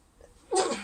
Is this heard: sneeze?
yes